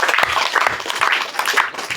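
A student group presentation audience claps in a steady, dense patter that fills the room for a couple of seconds.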